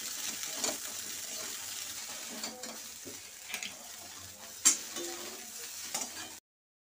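Soybean chunks fry in leftover potato-frying oil, a soft steady sizzle broken by occasional louder clinks and scrapes of stirring, with faint water-like trickles in the background.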